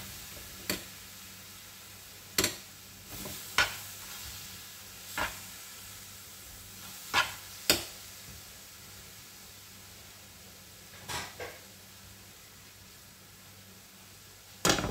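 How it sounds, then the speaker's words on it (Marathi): A spoon scrapes and taps now and then against a pan of coconut and mango pulp ladoo mixture, which hisses with a steady low sizzle. The knocks are sparse and irregular over constant background noise, and no one speaks. "असं हलवत राहायचं पूर्ण घट्ट गोळा होईपर्यंत।"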